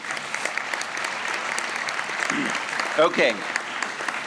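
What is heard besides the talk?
audience applause at university investiture ceremony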